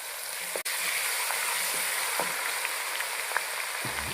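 Cumin and ginger-garlic paste fry in hot oil for a bitter gourd (karela) curry masala, giving a steady close sizzle with a few soft clicks and stirring sounds.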